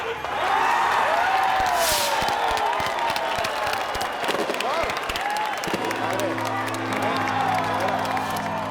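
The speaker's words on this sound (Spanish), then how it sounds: "recibamos con un fuerte aplauso al nuevo alcalde de La Victoria" Crowd applauding and cheering to welcome the new mayor of La Victoria at a public gathering, moderate clapping and whoops mixed with talking voices, with music entering partway through.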